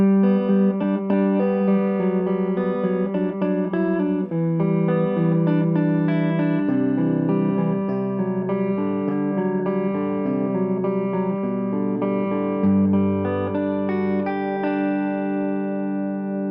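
Clean electric guitar plays through the fat channel of an Orange Dual Terror amp, with chiming chords and single notes ringing out in a continuous, reverberant phrase, alone and fairly loud.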